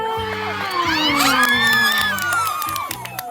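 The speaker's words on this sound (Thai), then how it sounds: "ขอเสียงปรบมือหน่อยค่ะ" A loud crowd at a school colour sports day cheers and whoops, children's voices shouting and screaming together in a close, continuous roar with scattered bangs.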